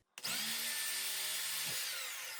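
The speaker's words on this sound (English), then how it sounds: "Using a 1-inch Forstner bit, I drilled until the bit's spur protruded from the backside." A drill bores into a wooden workpiece with a 1-inch Forstner bit, a loud steady whine that starts abruptly and holds for about two seconds at close range, with no voices.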